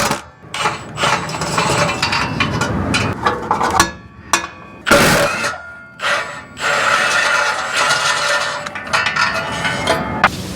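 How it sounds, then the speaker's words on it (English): A Milwaukee mid-torque impact wrench with an extension hammers at a 14 mm exhaust manifold bolt on a Toyota Matrix, loud rattling bursts in several close-up runs separated by brief pauses and clanks. "I'm just using the Milwaukee mid torque here with an extension."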